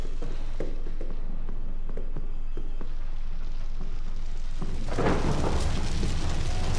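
Thunder in a horror video game: distant footsteps and rain at first, then a loud, broad rumble of thunder swells and rolls on to the end.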